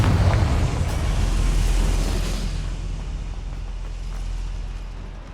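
The Confringo spell in the video game Hogwarts Legacy sets off a deep, rumbling explosion that booms loudly at first and then slowly dies away in a long roar.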